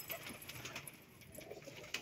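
Pigeons released from a loft take off together, a soft busy flutter of wings with faint cooing and chirps over steady outdoor background noise.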